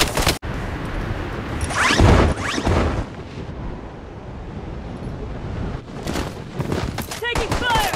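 Gunfire in the shooter Blood Strike, bursts of shots and impacts over a windy, rushing background, louder clusters early and again toward the end, with a voice speaking partway through.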